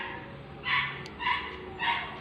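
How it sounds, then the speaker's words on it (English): Dogs across the street bark three times at steady intervals, each bark distant and moderately loud above a low, constant background hum. "Listen to that barking."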